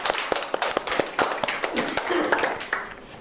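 A small group claps at a school studio event, distinct sharp hand claps in an uneven rhythm, fairly close and moderately loud, each slap standing out rather than blending into a wash.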